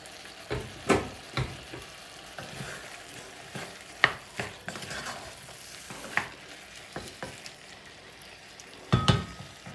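Lamb shanks frying and sizzling in a pot, with a few sharp stirring or scraping knocks over a steady crackle; no talking.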